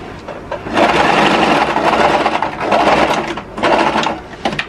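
A sewing machine running a reinforcement seam on a one-piece collar of plain fabric, a loud, close mechanical whirr in two sustained bursts separated by a short pause.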